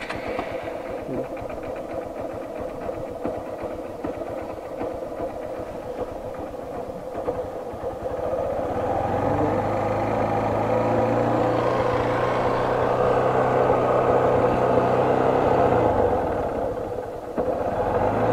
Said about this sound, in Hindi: रेस दे अब, खींच दे पूरी, खींच खींच